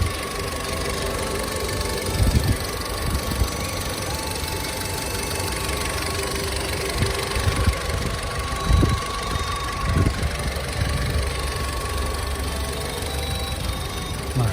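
A Volkswagen Polo engine idles steadily with a low, knocking rumble and a few brief revs, no voices present.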